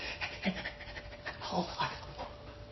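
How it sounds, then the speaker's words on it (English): A puppy pants in quick, rhythmic breaths close to the microphone, a steady run of short huffs with faint whimpery tones and no clear talk. "Little puppy, settle down."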